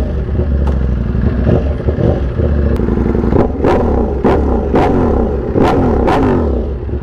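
Ducati Panigale V4 motorcycle engine running loud and close, a deep throbbing idle broken by a series of sharp, quick throttle blips and revs in the second half.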